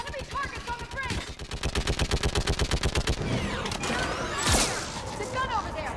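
A mounted gun in Mass Effect hammers out rapid bursts of automatic fire, loud and rhythmic, with mechanical clanks and a sharp blast near the end amid combat noise.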